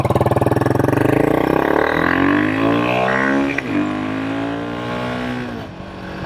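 Royal Enfield Himalayan 452 motorcycle fitted with an AEW performance exhaust, revving hard with a loud, sharp rising engine note that climbs in pitch, drops briefly, then climbs again, close up with no talking.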